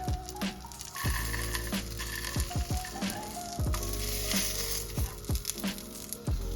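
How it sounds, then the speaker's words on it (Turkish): Vegan butcher-style meat substitute frying in a pan, with a steady loud sizzle and crackle broken by repeated clinks and scrapes of a utensil stirring or turning it, close up, with no talking. "Bakalım kızartınca nasıl olacak."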